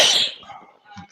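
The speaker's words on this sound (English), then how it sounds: "I'm sneezing. I put my hand over the mic to muffle it at least." One sharp sneeze, muffled by a hand cupped over the microphone, bursts out loud at the start and then trails off into faint rustling and a small thump.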